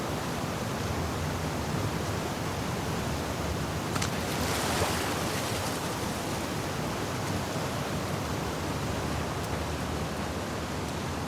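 Ocean waves in The Last of Us Part II, in the swimming section on the way to the aquarium as Ellie, make a continuous broad wash of surf and water noise that stays steady and fairly soft.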